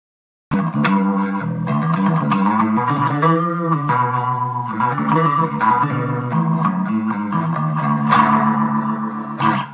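A sustained, fairly loud bass guitar line through a Leslie pedal on its sweet guitar setting, with a smooth, lightly effected tone, notes gliding between pitches without heavy distortion.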